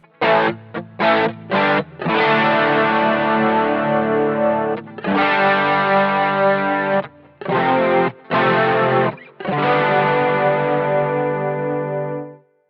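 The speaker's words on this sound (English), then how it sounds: "Let's just try and bring in the chorus and hear how it sounds" Electric guitar through a Boss GT-1 with a lush, shimmering chorus effect, playing a few short stabs then long sustained chords, clear and up front with no voices.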